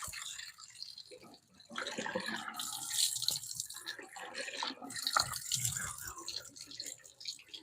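Water splashes and drips at a sink while someone rinses during a shave, a close, irregular stream of wet splashing that rises and falls with no talking.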